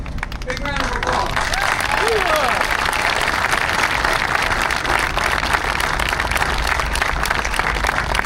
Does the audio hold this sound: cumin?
no